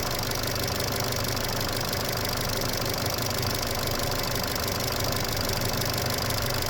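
A Chevrolet Cruze engine idling with the A/C running during a refrigerant recharge, a steady close mechanical drone with a rapid ticking rattle, constant throughout.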